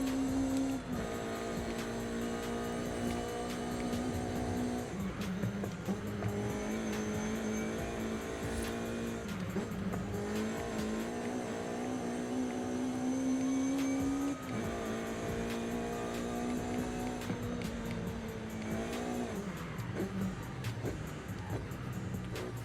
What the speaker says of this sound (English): Listen to some VTech from inside the car.